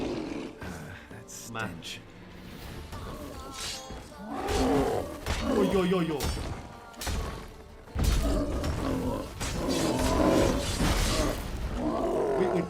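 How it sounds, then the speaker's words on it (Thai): A golem in The Witcher 3 gives several deep, guttural roars and grunts, loud and close, broken up by thuds of combat, while someone talks and exclaims between them. "โกเลมนี่เอง"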